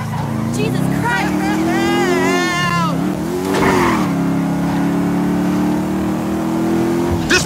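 A powerful motorcycle revving hard in Grand Theft Auto V, its engine note climbing and falling in loud sustained sweeps with a brief tire screech, while several voices shout over it.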